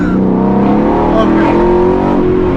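A Ford Mustang GT500 Eleanor revving hard past 4000 rpm: a loud, close, continuous engine roar with climbing harmonics sustained throughout.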